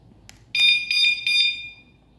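An ATA 119R wireless door chime alarm activated by its red lock button gives a series of four loud, shrill, close electronic beeps in quick succession, with a faint click before them.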